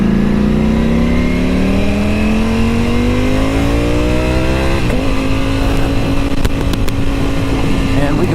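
A Ducati V4S motorcycle engine revs up loud and close, pitch climbing steadily, then settles into a deep rumbling idle, with occasional clicks over the top.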